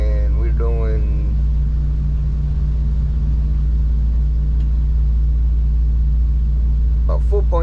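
A small house boat's motor runs at a little over quarter throttle, a loud, steady low rumble throughout, with a person talking over it near the start and briefly near the end.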